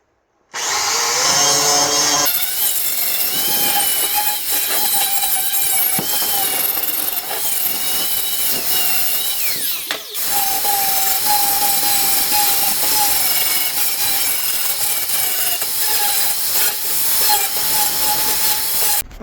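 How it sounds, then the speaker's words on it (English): A 4-inch angle grinder fitted with a wire wheel scrubs dross off plasma-cut steel, a loud continuous whining buzz with a steady high tone that briefly drops out midway before resuming, with no talking. "First bit I'm going to do is take off the dross with a wire wheel, 4-inch grinder"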